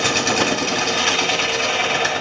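Carbide turning tool scraping across a segmented wood turning on a lathe, a steady close rasping and hissing cut that runs without a break.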